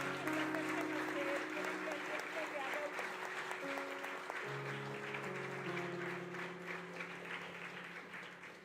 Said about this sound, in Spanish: Dile un aplauso al Señor.